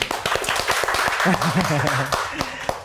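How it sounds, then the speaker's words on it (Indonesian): Hands clapping in a podcast studio set inside an Indonesian apparel store, a run of sharp, fairly loud claps with speech over the middle. "Tepuk tangan dong, aduh."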